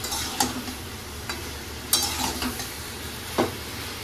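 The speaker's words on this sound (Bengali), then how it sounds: "দিয়ে ভালো করে কষতে থাকবো মশলাটা যাতে সবজির ভিতরে ঢুকে যায়।" Fried potato and mixed vegetables stir-fried with spices in a pan, a steady close sizzle broken by several sharp scrapes and clanks of the spoon at irregular intervals.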